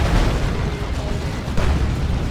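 A tank is destroyed in the video game Dawn of War 2: Retribution, and a loud, dense explosion rumbles and crackles continuously. Battle noise is layered through it.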